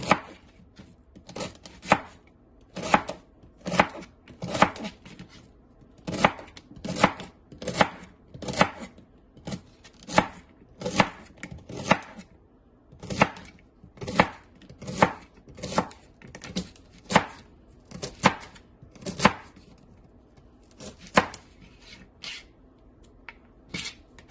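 A knife chops through celery stalks on a cutting board, crisp, sharp, evenly spaced strikes that repeat in a steady rhythm, close and clear, with a brief slowdown near the end.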